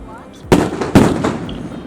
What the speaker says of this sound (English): a last opportunity to check out the last of the fireworks